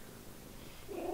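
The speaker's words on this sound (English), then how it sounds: "Sorry if you can hear purring, my cat is on my lap now" A pet cat purring while lying on a lap indoors, a soft, steady low rumble that swells louder near the end of the short stretch, with no talking.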